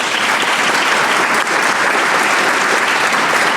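A large audience at an awards program bursts into sustained applause, a dense, steady wash of clapping from many hands that holds at full strength throughout.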